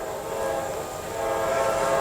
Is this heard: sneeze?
no